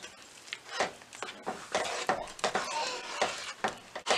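A spoon stirs semiya sago payasam in a pan, a series of soft scraping clinks and swishes in an uneven rhythm, quiet and close.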